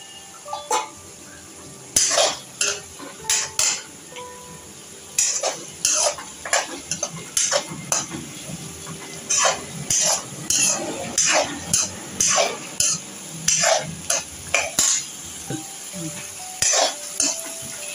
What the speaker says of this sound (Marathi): मटार मसाल्यामध्ये चांगले परतवून घेऊया